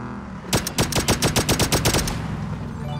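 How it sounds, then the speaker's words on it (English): Rapid automatic gunfire in a video game, a steady burst of about a dozen close, loud shots in quick rhythm lasting around a second and a half, over a low background hum, with no talking. "Someone else was shooting me from the right side."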